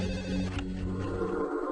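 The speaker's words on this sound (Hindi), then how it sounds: "देर रात आए एक फोन की घंटी ने भोपाल के मुख्य अस्पताल के सीनियर कंसल्टेंट डॉक्टर भंडारी को जगा दिया।" A telephone bell rings late at night in a Bhopal home, one steady continuous ring that is loud and close, heard alone with no voices.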